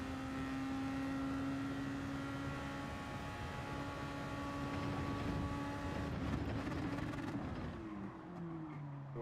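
A race car on a Gran Turismo 7 circuit holds a steady high engine note, then brakes hard with the pitch sliding down through downshifts before picking back up, loud and near with no talking.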